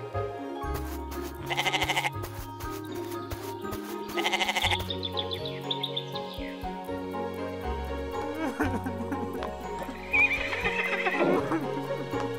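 A horse whinnies loudly a couple of times over bouncy background music, with scattered hoof clops and other animal bleats mixed in.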